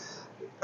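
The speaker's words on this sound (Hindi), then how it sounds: "पता नहीं खांसी क्यों आ रही है" A single sharp cough from a man during a biology lecture, short and loud, bursting abruptly after near silence.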